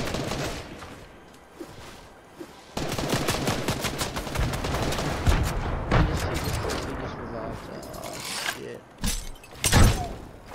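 Repeated gunfire bursts and single shots from the video game Batman Zero, loud and continuous over about ten seconds, with players talking and shouting throughout.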